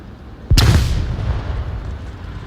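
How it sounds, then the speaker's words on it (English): A single heavy grenade or flashbang blast in the VR shooter Onward, a loud sudden boom followed by a long rumbling decay in an otherwise quiet moment. "Flashes and grenades flying in from Rambo"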